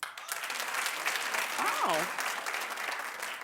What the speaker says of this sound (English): Clap if you're going to be seeing Magic Mike,